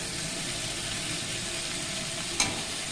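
Vegetables including radish sautéing in hot oil with spices, a steady broadband sizzle and stirring that runs throughout, with a brief sharper clink near the end.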